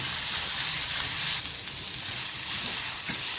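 Green chilies, five or six garlic cloves and a small piece of ginger fry in a little oil with a loud, continuous close hiss and sizzle, swelling and easing slightly.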